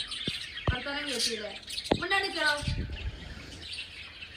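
Small birds chirp in short, bright bursts close by, mixed with other scattered sounds.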